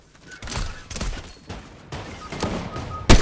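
Video game gunfire in a battle royale match: several separate shots and short bursts ring out at irregular intervals, close and sharp, with the loudest crack coming near the end.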